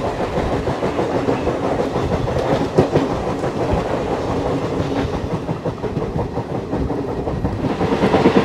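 Pune–Ernakulam superfast express train running on rails along the coast, a loud, continuous rumble and clatter of wheels from inside the moving train, steady throughout with no voices.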